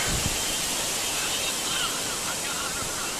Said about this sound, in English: The wind, this is the wind.